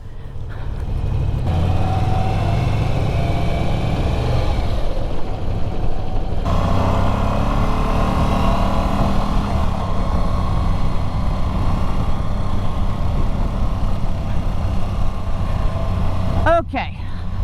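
An Italian adventure motorcycle rides in first gear, its engine note steady and loud up close with wind rush, and a voice talks over it throughout.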